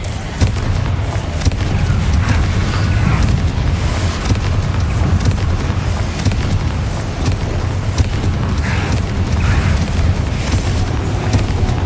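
A Confringo explosion spell bursts in the Hogwarts Legacy video game, part of a dense, continuous barrage of loud booms and rumbling blasts layered over heavy low-end game noise.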